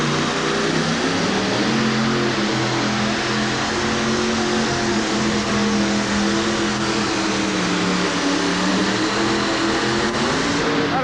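A monster truck makes a pulling pass at a 1989 USHRA event in Worcester, its engine holding a loud, sustained growling drone that climbs in pitch near the end, alone without voices.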